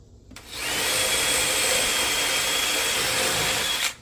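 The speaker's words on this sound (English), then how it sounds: "So take our cordless drill" A cordless drill whirs steadily for a few seconds at close range, drilling a hole in a wall to mount an inverter, starting abruptly and cutting off at the end, with no talking.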